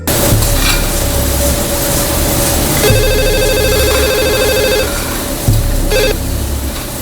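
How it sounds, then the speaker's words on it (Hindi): A telephone rings in a trilling burst lasting a couple of seconds, then starts again briefly, over a steady hissing background. "मैं वहां फोन करके देखता हूँ"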